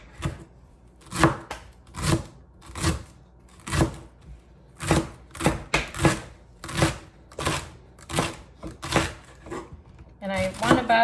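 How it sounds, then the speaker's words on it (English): A knife slices rinsed celery as thin as possible on a cutting board, producing a steady series of crisp, close chops about every half second, with a brief rustle at the end and no talking. "I just start at the end, and I'm gonna slice it as thin as I can."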